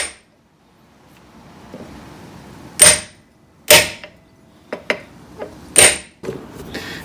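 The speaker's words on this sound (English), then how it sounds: "I'm using 2 ball peen hammers. One here, one to hit it loose." Two ball peen hammers strike a rusted brake drum on a 1978 MG to knock it loose: a handful of loud, ringing metallic blows at irregular intervals, close up, with lighter taps between and no speech.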